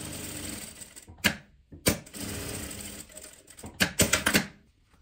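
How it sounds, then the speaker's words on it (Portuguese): A sewing machine topstitching fabric scraps, running in short loud rattling bursts with brief pauses between stitches, close and clear with no talk. "E aqui eu passo um pesponto, que é a parte que foi fechada, costurada"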